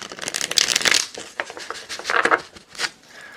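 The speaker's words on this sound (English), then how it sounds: "I'm going to do one more shuffle here before we go on." Tarot cards are shuffled close up in a quick run of crisp riffling and flicking, with brief pauses between bursts of papery rustle.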